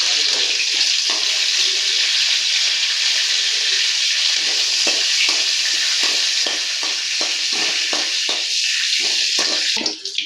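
Fennel seeds sizzle and fry in a hot pan as the base of a river crab gravy, a loud, steady crackling hiss with repeated scraping stirs near the end.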